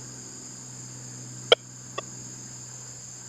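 Metal detector with an 11-inch coil, set to low reactivity, giving a sharp short signal tone followed by a fainter second blip over a steady background hum, with no talk.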